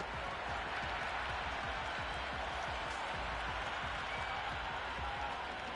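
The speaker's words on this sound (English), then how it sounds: "The crowd are really getting quite raucous." A large cricket stadium crowd in a video game roars in a dense, continuous wash of cheering and chatter, with faint clapping mixed throughout.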